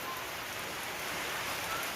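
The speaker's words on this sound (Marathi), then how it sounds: "आज पाऊस आलेले मोठं पाऊस" Steady, dense rain hisses evenly throughout, a constant wash of noise with no voices.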